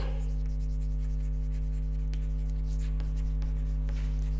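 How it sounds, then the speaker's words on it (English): Pen or marker writing notes during a business studies class, a steady soft scratching stroke running throughout, close and alone over a constant low electrical hum. "let me write"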